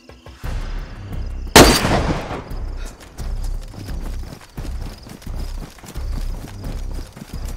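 A single loud gunshot cracks out in the DayZ video game, a sharp burst followed by a short decaying tail, then lower in-game movement and ambient rustle continue beneath.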